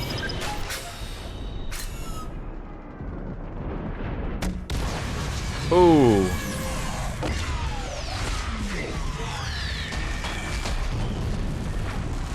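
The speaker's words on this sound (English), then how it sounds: "Should not look directly at explosions." Hades cannon explosions in the Mass Effect 3 Priority: Earth finale, a loud deep boom around the middle over a dense rumbling battle din with sweeping whines, and a voice briefly exclaiming.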